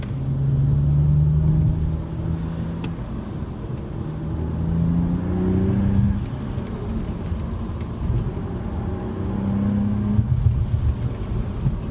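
A 2018 BMW M2 engine holds a steady mid-throttle drone from inside the car, a deep continuous hum whose pitch rises and falls gently over several stretches as the car pulls along.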